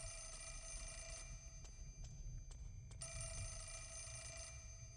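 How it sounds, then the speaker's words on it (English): A telephone rings in the Fatal Frame: Mask of the Lunar Eclipse video game, a steady electronic bell that goes on through the clip, faint and alone, broken by a few short clicks. "phone's still ringing"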